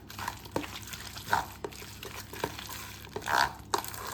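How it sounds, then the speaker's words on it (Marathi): Spoon stirring salt into a wet onion-leaf and gram-flour bhaji batter in a bowl, irregular soft scraping and squelching strokes close up, with no talking. "अर्धा चमचा मीठ घालते, व्यवस्थित हलवून घेऊया"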